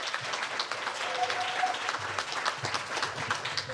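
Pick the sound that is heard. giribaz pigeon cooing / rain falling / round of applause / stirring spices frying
round of applause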